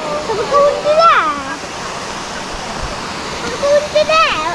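A waterfall on the Ingleton waterfalls trail roars as a steady broad wash of water, with a voice and an adult talking over it nearby.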